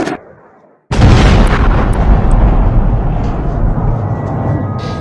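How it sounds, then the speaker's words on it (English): A massive missile strike explosion erupts after a brief quiet, followed by a long roaring rumble that stays loud and dense for several seconds. "Russian forces have attacked oil and gas facilities, sparking huge explosions"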